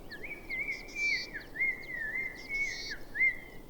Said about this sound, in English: birdsong is the only sound in the cliffs